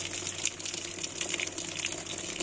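Water pours steadily from a wooden village spout, a continuous splashing gush with a bright hiss, close and alone.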